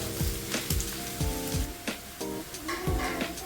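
Thinly sliced onions fry in a pan toward golden brown, giving a soft sizzle broken by repeated clinks and scrapes of a utensil stirring, fairly quiet and close.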